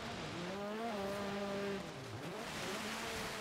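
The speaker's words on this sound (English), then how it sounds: "I can hear your car" Car engine in the racing game Forza Horizon 3, a little Ford Capri on a snowy mountain course, droning steadily with pitch dips as gears change and faint tire noise, alone without speech.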